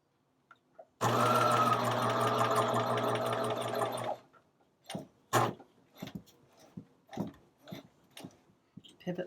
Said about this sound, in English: I'll sew on those lines so that I can then turn it through